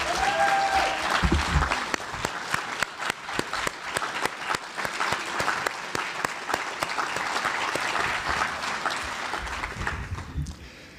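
Conference audience applauding steadily for about ten seconds, a dense sustained clapping that fades slightly toward the end, with no speech over it.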